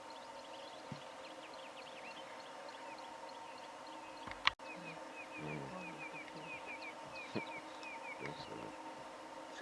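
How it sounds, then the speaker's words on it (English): Bees buzz faintly in a quiet morning bush setting, with birdsong over a steady outdoor ambience and a sharp click partway through. "Can you hear those bees?"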